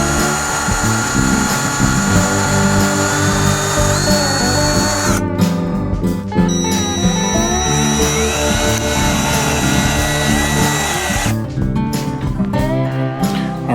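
A power drill bores pilot holes and drives screws into plywood for a budget overland drawer system, whirring loudly and steadily with brief pauses and pitch shifts between runs, with no talk.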